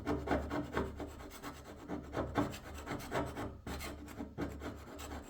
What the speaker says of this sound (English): Let's try with a metal scraper.